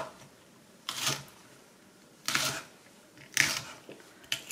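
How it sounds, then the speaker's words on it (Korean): A knife slices chili peppers on a cutting board while potato jjageuli is being prepared in a home kitchen. A few separate, sharp cuts land about a second apart in an otherwise quiet room. "고추를 썰어 보겠습니다"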